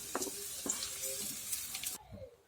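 Pui (Malabar spinach) stalks fry in a pan with a steady oily sizzle and light stirring scrapes, close and moderately loud, cutting off near the end with no voices.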